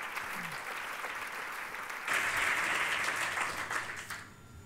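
Audience applause at an award ceremony, a steady wash of many hands clapping that swells louder midway and then thins out toward the end.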